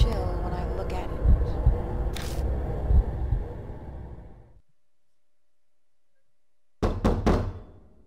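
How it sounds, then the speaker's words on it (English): A fist pounds on a door in the game Death Mark, giving heavy, dull thuds over a rumbling background that fades to silence, then a quick cluster of sharp knocks. "My fist pounds on the door."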